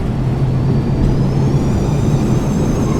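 A Boeing 737-200 lands in FSX with its spoilers deployed, producing a loud continuous engine rumble and airflow roar with a steady low hum, unbroken and without voices.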